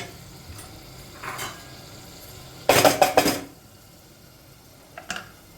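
Food sautéing in a pan, heard as a few brief metal clinks and scrapes of a utensil against cookware, one louder burst of clattering stirring in the middle, otherwise quiet.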